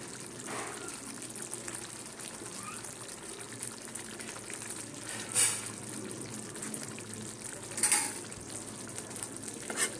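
Ghee heating and frying in a pan for a vegetarian potato curry, a soft steady sizzle with light scraping and a couple of brief sharp clinks, fairly faint throughout.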